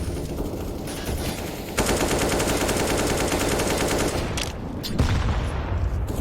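Rapid automatic rifle fire from a Galil and an AK-47 in Counter-Strike on the Vertigo map, dense bursts of gunshots that stop briefly and then resume, loud and close.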